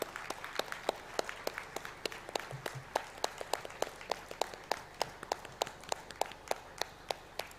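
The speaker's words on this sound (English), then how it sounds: "A big hand of applause, please." Audience applause at a convocation award ceremony: sparse, steady claps from a modest crowd, each one distinct and evenly paced, heard alone without any talk.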